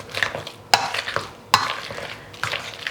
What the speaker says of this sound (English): we're just gonna mash it until it's a nice consistency